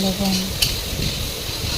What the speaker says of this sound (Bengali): লবণ দিয়ে ভাজিছো, মানে বেশি ভাজা না থাকে আরও